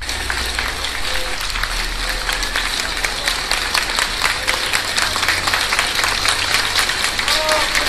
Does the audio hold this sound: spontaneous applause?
yes